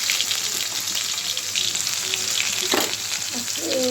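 Bay leaf sizzling in hot oil in a pan for a Bengali tengra fish curry with potato and data stems, a steady loud crackling fry filling the whole moment with faint clinks underneath.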